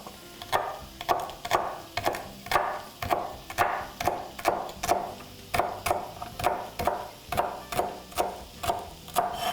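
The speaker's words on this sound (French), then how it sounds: "Je vais hacher finement les tiges" A knife finely chopping herb stems on a cutting board, with steady, evenly spaced, crisp chops at about two per second, close and clear with no talking.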